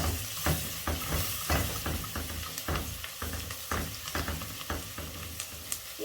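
Onions and garlic frying in a pan, a constant hissing sizzle with rhythmic scraping strokes as a utensil stirs them every half second or so, close and fairly loud, no voices.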